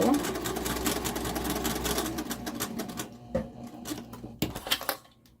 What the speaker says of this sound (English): I'm gonna back stitch, and you're going to go and sew